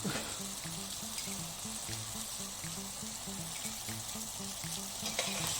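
Tomatoes and chilies fry in oil for palak paneer, a steady close sizzle running throughout with faint stirring, under quiet music.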